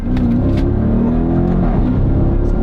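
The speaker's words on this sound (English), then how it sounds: "So the pace car now is going to go." On a race track, a pace car's engine roars loud and close as it accelerates away, pitch rising and shifting in a rough, throaty drone with no voices.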